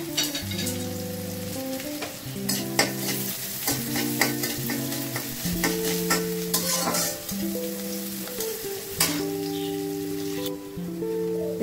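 Pumpkin greens fry in hot oil in a pan, producing a close, steady crackling sizzle with frequent sharp pops and stirring scrapes, continuous across the whole stretch without any speech.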